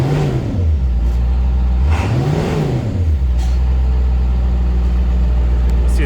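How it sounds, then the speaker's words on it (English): International T444E 7.3 diesel from a 2005 truck revving twice over a steady loud idle, each rise swelling and dropping back to the low rumble. "We'll give it some gas here and give her some throttle,"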